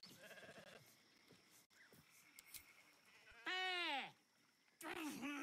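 Sheep bleat in Baldur's Gate 3, two loud wavering calls separated by a pause, with quieter synthetic effects and faint voices talking beforehand.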